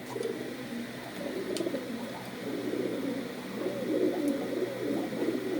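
Domestic pigeons, local and Pakistani breeds kept at a house, coo repeatedly in low throaty bursts, close and steady with no talk.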